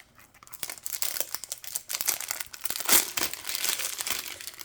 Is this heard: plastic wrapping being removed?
yes